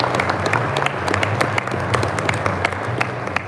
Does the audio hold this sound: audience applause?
yes